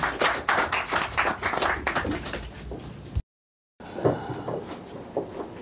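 An audience at a jazz conversation event claps in uneven bursts of close, sharp hand claps, broken by a brief total silence before the clapping resumes.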